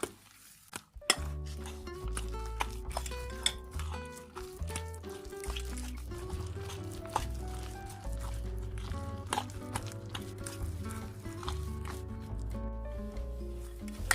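Spoon stirring a potato filling with added egg yolk in a bowl for pastel pastries, with steady clinks and scrapes against the bowl running throughout under ongoing background music.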